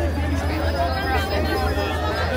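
A crowd gathers for a group photo at Disneyland during the holidays, a steady close hubbub of many overlapping voices chattering with a low hum beneath.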